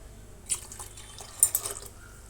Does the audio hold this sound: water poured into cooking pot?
yes